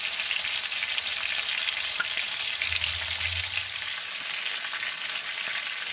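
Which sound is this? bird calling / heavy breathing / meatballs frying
meatballs frying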